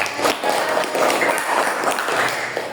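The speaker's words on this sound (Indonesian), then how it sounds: "Tepuk tangan." Students in a primary school classroom clap for a group after its presentation, a brief burst of dense, close, scattered hand claps.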